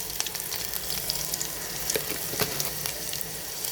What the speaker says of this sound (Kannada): ಸ್ವಲ್ಪ ಫ್ರೈ ಆಗಬೇಕು ಬೆಳ್ಳುಳ್ಳಿಯೆಲ್ಲ.